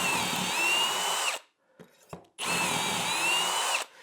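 A power drill bores holes in wood through a doweling jig, two sustained whining runs cut by a short pause with small knocks and clatter between them, close and loud.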